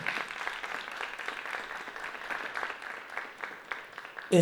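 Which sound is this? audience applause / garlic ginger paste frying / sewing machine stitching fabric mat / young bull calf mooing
audience applause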